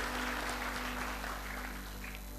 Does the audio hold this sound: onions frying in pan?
no